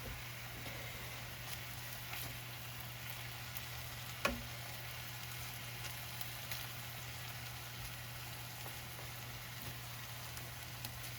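Deer meat fries in beef tallow in a pan, a soft continuous sizzle over a steady low hum, with faint scraping from stirring and one sharp tap about four seconds in.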